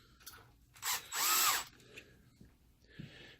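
Power screwdriver backing out the screws holding a BenQ MX710 projector to its base, two short whirring bursts close by, the second longer, amid faint handling clicks.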